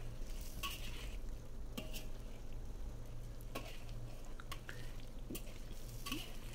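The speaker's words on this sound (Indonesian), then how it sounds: "Ini kita pakai apinya api sedang aja ya, diaduk-aduk terus, jangan sampai ditinggal-tinggal supaya nggak gosong" Chicken sizzles steadily in hot oil over medium heat while a utensil stirs, scraping and clinking against the pan now and then.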